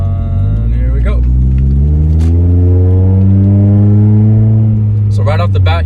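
A 2011+ Scion tC with a HIKEit X9 throttle controller on setting 0 accelerates hard, its engine loud from inside the cabin and climbing steadily in pitch, with brief voice sounds near the start and end.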